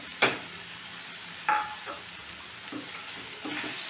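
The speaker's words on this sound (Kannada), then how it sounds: "ಈಗ ಮಾವಿನಕಾಯಿ ಹಾಕಿ ತುರುವಿ ಹಾಕ್ತಾಯಿದ್ದೀನಿ ತುರ್ಕೊಂಡಿರೋ ಮಾವಿನಕಾಯಿ" Grated raw mango stirred in a hot pan with turmeric for mango thokku, a few distinct scraping stir strokes over a quiet low sizzle, close and moderately soft.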